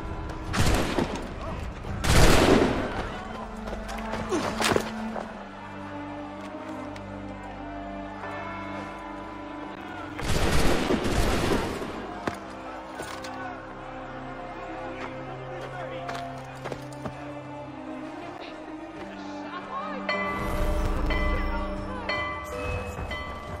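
Gunfire volley after a shouted order to fire, heard as loud broadband bursts near the start and around ten seconds, with further blasts later, under a dramatic musical score and voices.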